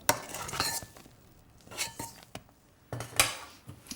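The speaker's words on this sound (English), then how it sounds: "fold in the cocoa, vinegar and chocolate. Just keep turning the spoon round and down until everything is gently combined" A spoon folds cocoa, vinegar and chocolate into meringue in a bowl, giving soft scraping strokes and occasional light clinks of metal on the bowl, close and intermittent with pauses between turns.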